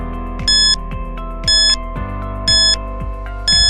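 An electronic quiz timer alarm plays a repeating pattern of falling low tones and bright high beeping bursts, about once per second, loud and alone.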